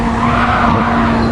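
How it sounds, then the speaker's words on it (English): A race car's rear end sliding in a sim racing game, with a brief, loud tire skid over a steady engine drone. "Ooh, nearly lost the back end on Max's car."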